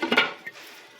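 A lid is set onto a pot of okra stew with a close metallic clatter and a quick second clink, then a soft fading ring.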